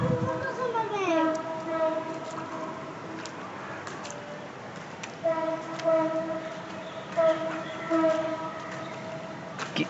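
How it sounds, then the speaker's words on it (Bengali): Train rolls past with sustained multi-tone horn blasts sounding repeatedly, loud and close over a steady rumble. "ট্রেনের সাউন্ড হচ্ছে, সেই ট্রেন যে ট্রেন আমরা দেখতাম"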